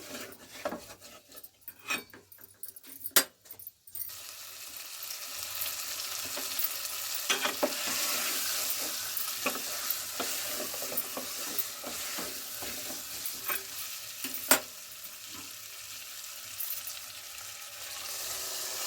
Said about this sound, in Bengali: আলু দিয়ে আমি হালকা হাতে নেড়ে চেড়ে নিচ্ছি।